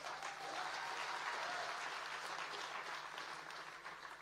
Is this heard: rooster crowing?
no